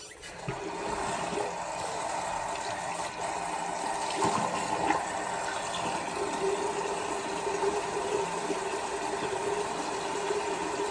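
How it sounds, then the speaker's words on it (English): Hot water runs steadily and continuously from a tap for rinsing, a close, even hiss with small splashing variations throughout. "so we're rinsing off with hot water."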